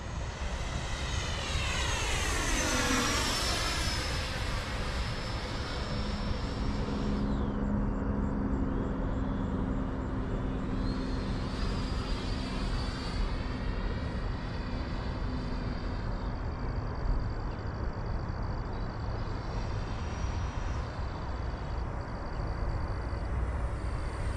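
A Freewing T-45 Goshawk 90mm electric ducted-fan RC jet makes a flyby, its high whine sweeping in pitch as it passes, then holding steady as it flies on, over constant outdoor background noise.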